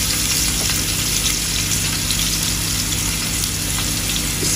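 Patoi fish fry in oil in a small pot with a steady, loud sizzle and crackle. The sound is continuous and close, with no talk over it.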